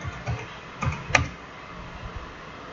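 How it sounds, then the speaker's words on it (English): Keys on a computer keyboard being typed, with a handful of close, distinct clicks and one sharper keystroke in the middle. Each press stands alone against a quiet background. "In search bar, type"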